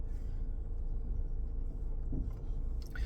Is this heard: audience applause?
no